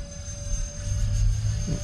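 An E-flite A-10 64mm electric ducted-fan RC jet passes overhead, its steady whine and rushing roar sounding moderately distant, swelling slightly as it flies by.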